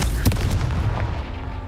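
In the game Hogwarts Legacy, the Confringo blast spell bursts with a heavy, booming explosion, a sharp loud impact followed by a rumbling decay.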